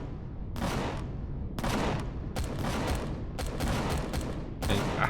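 Patrol vessel guns fire at ice golems in the Empyrion space-survival game, a series of sharp bursts of gunfire in uneven volleys, each stopping abruptly, loud and close.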